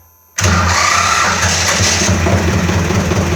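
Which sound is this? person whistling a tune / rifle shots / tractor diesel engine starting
tractor diesel engine starting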